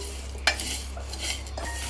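Spoon stirring grated dry coconut and garam masala as they roast in a pan for a Konkani chicken and cashew gravy, a soft steady scrape with one sharp clink of metal, close and alone.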